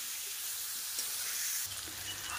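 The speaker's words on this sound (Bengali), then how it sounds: "লবণ আর হলুদ দিয়ে আলুগুলোকে বেশ ভালোভাবে ভাজা করে তুলে নেব।" Potatoes frying in oil seasoned with salt and turmeric, giving a steady soft sizzle and hiss close by with faint stirring, and no voices.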